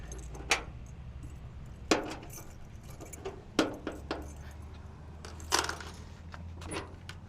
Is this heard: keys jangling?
yes